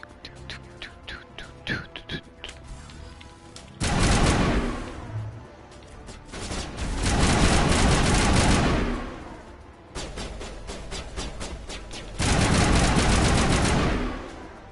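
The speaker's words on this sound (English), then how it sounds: "I'm trying to shoot someone through a solid brick wall" Sustained bursts of automatic gunfire from Mass Effect Legendary Edition, using armor-piercing rounds on Eden Prime, come in loud rolling volleys with brief pauses between them, after a quieter opening stretch of scattered shots.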